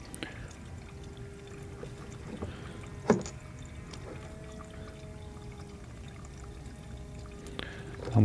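Fuel running through a jiggle siphon out of an outboard motor tank makes a faint, steady trickle and gurgle of liquid, broken by a few light knocks and clicks from the hose and tank; no talking.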